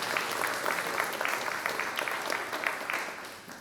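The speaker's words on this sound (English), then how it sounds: "Let's give her a nice round of applause." A school awards ceremony audience gives a round of applause, a dense, steady clapping from many hands heard fairly faintly at a distance, with no talking over it.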